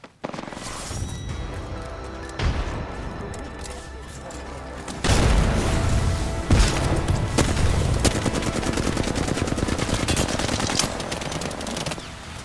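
Frag grenade explosion in Apex Legends, with a heavy boom near five seconds followed by sustained rapid automatic gunfire over a low rumbling game soundtrack, loud and dense throughout.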